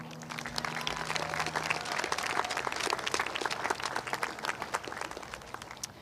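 Applause from an audience at a high school graduation ceremony, with steady, dense clapping from a fairly distant crowd that runs throughout and stays moderate in level.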